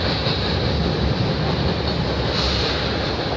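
A CP/CN freight train with a DPU locomotive passes in Milton, Ontario, making a loud, steady rumble and roar of rolling rail cars up close, with no talk.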